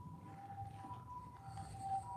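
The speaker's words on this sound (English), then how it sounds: "Can you hear ambulance?" A faint, steady ambulance siren wails in the distance over low outdoor street rumble in Tokyo, holding a fairly even pitch throughout.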